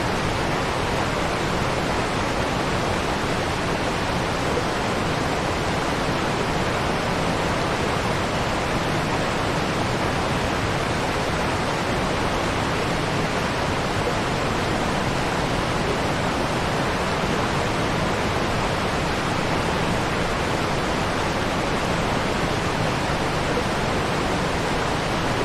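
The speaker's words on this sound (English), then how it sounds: "the sound of this waterfall" Steady broadband rush of a waterfall in a fishing video game, continuous and even throughout with no talk over it.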